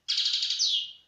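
Goldfinch singing the tata note: a single bright, buzzy trill lasting about a second, close and clear against silence, ending in a smooth falling sweep.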